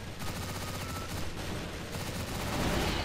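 Rapid automatic gunfire from a Steyr PDP in a video game, a dense, continuous stream of close, loud shots with no pause across the whole stretch.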